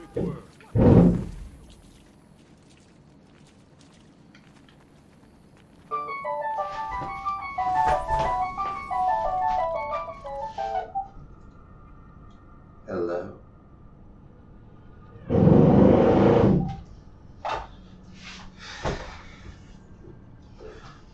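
A phone rings with an incoming spam call, playing a bright, repeating electronic melody for several seconds, surrounded by louder thumps and knocks before and after.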